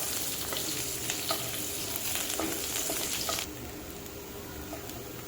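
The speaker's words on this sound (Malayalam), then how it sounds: "ഇതിലേക്ക് 1 ടേബിൾ സ്പൂൺ ഇഞ്ചി, 1 ടേബിൾ സ്പൂൺ വെളുത്തുള്ളി, 2 പച്ചമുളക് എന്നിവയിട്ട് ഒന്ന് വഴറ്റുക." Ginger, garlic and green chilies sizzle in hot oil for a Kerala-style prawn roast, a continuous close frying hiss with a few light stirring taps that drops to a softer level partway through.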